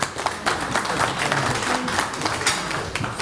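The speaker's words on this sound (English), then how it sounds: "And as we have one more big round of applause" Applause at a Four Chaplains memorial breakfast: a roomful of people clapping steadily, with some sharper nearby claps standing out from the crowd, and faint voices beneath.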